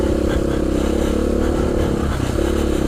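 An enduro motorcycle engine holds a loud, steady revving drone while riding a muddy Welsh trail, close and continuous, with faint scraping clatter mixed in.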